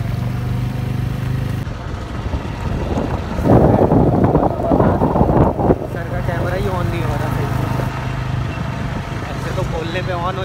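Steady wind buffeting and engine rumble while riding a motorbike on a rough road without a cap or muffler, with a louder gusty burst in the middle and talk over the noise.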